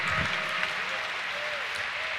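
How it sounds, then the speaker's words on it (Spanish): A church congregation claps loudly in worship, a dense steady wash of applause from a crowd filling the room throughout, with faint voices mixed in. "Por favor, aplauda fuerte al Rey de Reyes y Señor de Señores."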